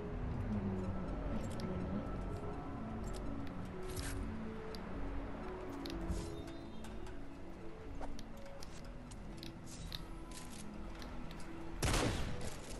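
Shotgun blasts in the game Fortnite crack out amid dense, busy game sound, with one loud, sharp burst standing out near the end over a constant clatter of effects.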